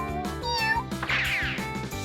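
Kittens meow several times in a row, high and wavering cries close up, with no talk over them.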